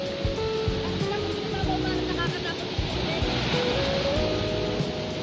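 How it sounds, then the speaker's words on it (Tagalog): Strong surf at a beach in Casolares, Bolinao, Pangasinan roars in a steady, dense wash close by, with people talking over it. "Nakakatakot talaga, lakas ng alon eh"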